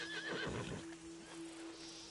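A horse in the video game Red Dead Redemption 2 lets out a short, close whinny followed by a few soft hoof clops, fairly quiet with no talking over it.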